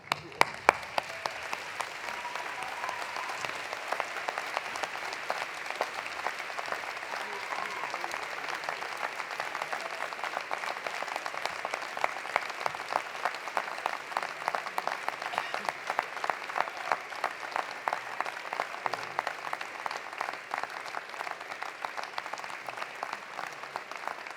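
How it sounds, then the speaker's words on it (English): Sustained applause from a large university convocation audience, dense steady clapping that carries on alone for the whole stretch, loud and even with no break. "give them a huge round of applause"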